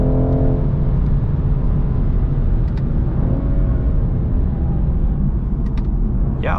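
A 2022 BMW 230i coupe with the M performance package runs steadily under load while driving on track, its engine a continuous loud drone with shifting harmonic tones and no talk.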